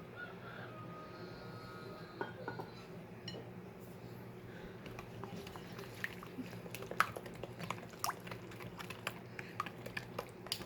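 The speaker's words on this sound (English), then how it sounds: "add the half a cup of milk and my cup of sugar and start mixing those in as well" Milk and sugar being stirred into a sweet friendship bread batter in a bowl, with soft irregular clicks and taps of the utensil against the bowl over a steady low background hum, close and fairly quiet.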